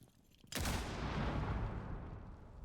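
A grenade goes off in a first-person shooter game, a sudden loud boom that blasts in after a half-second of quiet and rolls on as a long, dense roar slowly fading over the next couple of seconds.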